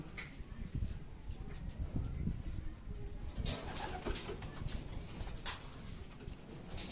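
At a pigeon loft after a 372 km derby race, soft pigeon coos and light fluttering patter sit over a low, rumbling background, fairly faint and close.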